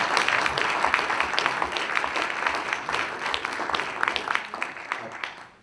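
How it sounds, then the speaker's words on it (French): Steady applause from an audience at a talk on team management, many hands clapping briskly and fairly loud, with a few sharper individual claps standing out before it fades at the end. "Je pense qu'on peut applaudir."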